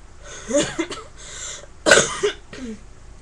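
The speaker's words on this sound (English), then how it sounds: "Coughing is a good thing. It hurts, but it's a very good thing." Two sharp post-surgery coughs spaced about a second apart, with quieter breathy throat sounds between them, close to the listener and without speech.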